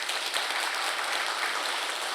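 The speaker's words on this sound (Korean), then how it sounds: "인사하실 때 우리 박수로 환영하겠습니다" A church congregation at a Sunday service claps together in a dense, even burst of applause to welcome a family, moderately loud and without speech.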